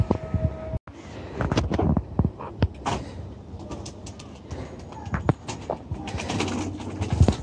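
Giribaz high-flyer pigeons coo and rustle in a loft, soft repeated calls and wing or foot noises spread through the clip, with faint talk and background noise mixed in.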